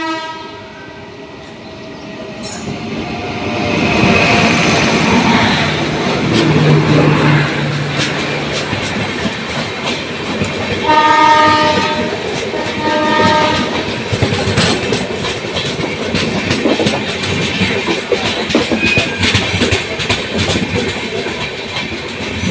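A late-running passenger train on the Dhola to Ahmedabad route pulls away from a station, its loud rumble and wheels clacking over rail joints building steadily, with a horn sounding partway through.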